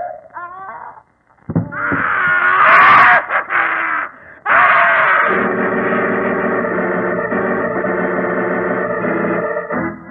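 A drawn-out ghastly wail in a Sherlock Holmes radio drama about a witch, rising into shrill screaming and then sustaining a loud quavering moan for several seconds.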